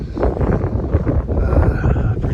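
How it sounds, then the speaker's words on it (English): Wind buffets the microphone on a cold, cloudy Sierra trail section of the Pacific Crest Trail, a loud, low, blustery rumble fluctuating in gusts throughout. "pretty windy"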